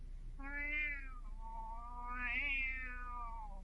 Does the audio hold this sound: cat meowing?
yes